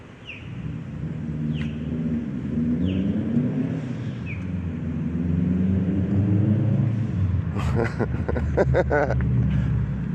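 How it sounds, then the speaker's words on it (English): A car engine runs at idle, a steady low rumble holding under the whole stretch with faint high chirps early on and a brief cluster of clicks and rattles near the end. "his car's on. It's been on for like an hour"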